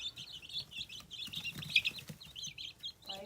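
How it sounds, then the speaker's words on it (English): Chickens pecking at food on the ground make faint, rapid high chattering and clucking, with a few soft flutters, all fairly quiet and distant. "Little crazy chickens."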